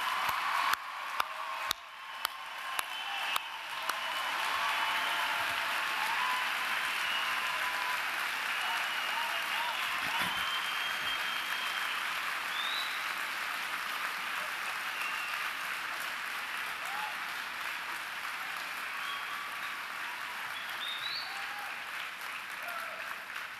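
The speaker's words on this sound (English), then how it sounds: "I think this is at least the 5th or 6th round of applause you've received today already." Sustained applause from a large crowd of graduates standing at a 2011 Carthage commencement ceremony, a dense steady roar of clapping in a hall that starts with a few sharp claps and holds loud for the whole stretch.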